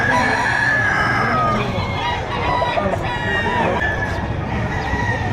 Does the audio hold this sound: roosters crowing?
yes